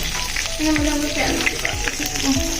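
Onion and garlic frying together in a pan, a steady close sizzle with soft scraping and stirring knocks scattered throughout.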